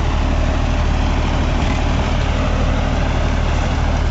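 A John Deere 5405 4WD tractor engine running steadily with a dense, low diesel rumble. It is close and loud, even and unbroken throughout, with no talk.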